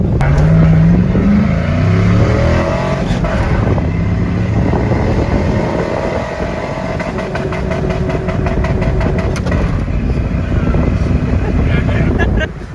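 A loud V8 engine in a five-speed Chevrolet Silverado pickup idling and revving with rumbling exhaust and a small pop, wind buffeting the microphone and people talking over it.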